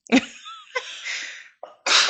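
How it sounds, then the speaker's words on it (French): A single sharp sneeze bursts out close up on a TV talk-show set, followed by a few breathy exhalations and a short sniff. "je vais juste éternuer."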